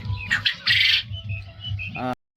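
Caged quail on a farm squawk and chirp in sharp, close bursts over a low mechanical hum, several birds calling in quick succession from a full cage.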